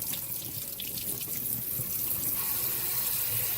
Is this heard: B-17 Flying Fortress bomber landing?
no